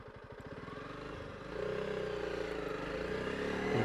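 A Honda CRF300L Rally motorcycle on a backroad ride hums along, then its engine note drops and steadies while it slows and turns around, ending with a rise as throttle opens; close and continuous, no voices.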